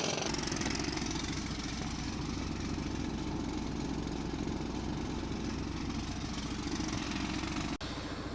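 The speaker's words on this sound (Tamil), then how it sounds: "ஜேசிபியை வச்சு லேடர் வேலை பண்ணிட்டுருக்காங்க" A JCB excavator works on a road, its diesel engine churning in a steady, rough mid-low drone with a faint knock. The sound is close and continuous and cuts out briefly near the end.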